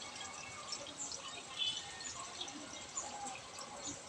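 Tap water running steadily while fish is rinsed and cleaned under a kitchen faucet, a continuous close hiss and splash with small drips, no clear speech.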